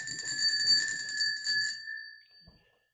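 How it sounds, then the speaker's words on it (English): A bell rings with a bright, sustained metallic tone that fades out over about two seconds, followed by a soft thump, with no voices. "Folks, ring the bell."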